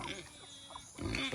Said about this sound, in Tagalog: May baboy din dyan.